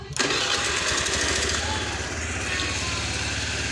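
A Honda Vario 110 carburetor scooter engine starts with a brief cranking burst, then settles into a steady, close, rattling idle that continues loudly to the end.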